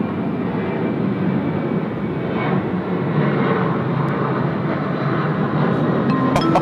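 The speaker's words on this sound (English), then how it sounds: "Delta now clear for takeoff from runway 34 left" Delta airliner taking off from runway 34 left at Sydney Airport, its engines a broad, steady roar that swells slightly midway, heard from a distance with a few faint clinks near the end.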